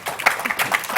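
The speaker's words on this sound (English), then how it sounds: "Can I get a round of applause for our panelists?" Short burst of applause from a meeting audience for a panel of speakers at a public health data session, a dense patter of claps at moderate loudness with faint speech mixed in.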